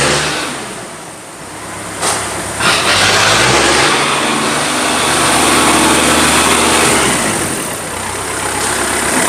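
A Kubota tractor's engine running close by, loud and chugging, its revs rising and falling as it is throttled up and eased back.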